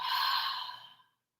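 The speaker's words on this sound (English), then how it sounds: "We will all take a big inhale together and a deep cleansing exhale. Let it out." A single long, breathy exhale from a group of people letting out a deep cleansing breath together during a yoga class, fading away to silence within about a second.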